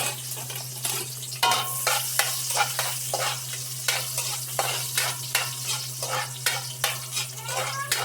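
Onions sauté in a pan after garlic has browned, for Filipino tinolang manok, with a continuous sizzle broken by repeated scraping stirs of a utensil against the pan over a steady low hum.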